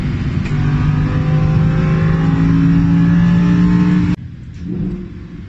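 Lamborghini Huracan sports car engine revving hard, a loud sustained rising roar with climbing pitch that cuts off abruptly near the end, then a brief softer engine burble follows.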